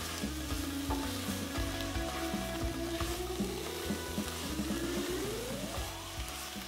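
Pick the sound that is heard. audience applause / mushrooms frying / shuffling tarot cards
mushrooms frying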